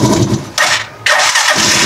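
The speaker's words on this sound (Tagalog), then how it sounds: "Namatay pa siya kasi nga first starting ko at malamig yung makina." A Rusi Chariot 175 trike engine is started cold: the starter cranks briefly, the motor catches with a rough mid-pitched burst, dips, then fires again and runs, loud and close.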